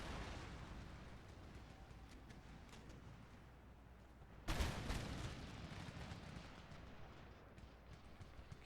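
A sudden heavy blast of artillery fire in the Empire Total War battle game breaks through a steady low rumble of battlefield noise, followed by a rolling, crackling din.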